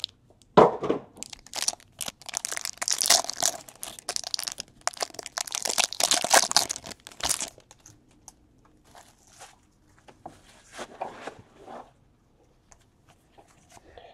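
Plastic wrapping crinkles and tears as it is peeled off football trading card packs, with loud, dense crackling bursts for about seven seconds, then quieter intermittent rustles and handling.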